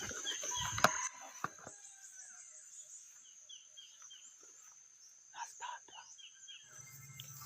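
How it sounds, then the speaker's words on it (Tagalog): A rooster crows in the distance, faint and drawn out, with scattered rustles and a brief clatter nearby. "Gandang tilaok."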